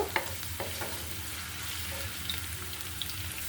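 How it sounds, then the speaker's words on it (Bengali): Onions and slit green chillies frying in a pan, with a steady crackling sizzle and occasional scrape of stirring, fairly quiet and close with no talk. "পেঁয়াজটা আমি একটু বেরেস্তা করে নিব"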